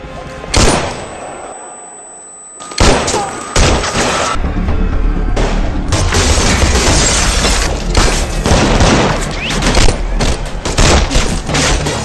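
Loud, sustained exchange of gunfire between police and kidnappers: rapid overlapping shots mixed with booms, thuds and crashes, filling the whole stretch without pause.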